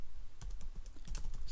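Rapid keystrokes on a computer keyboard, close and fairly faint, in an uneven run of clicks with no voices.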